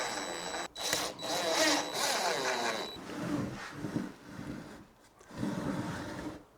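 A power drill drives 1 1/4 inch screws into the wooden tops of bar stools in a few whirring bursts of rising and falling pitch, moderately loud and close, with short pauses between runs.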